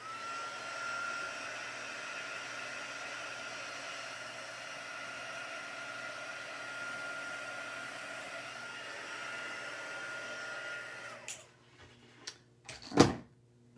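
A heat embossing gun's steady whooshing blower runs for about eleven seconds, then cuts off, followed by a few handling knocks and clatters.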